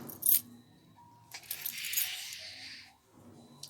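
Keys and small items are tossed into a small crocheted holder, giving a sharp metallic jingle early, then a longer rattling clink, with quiet pauses between.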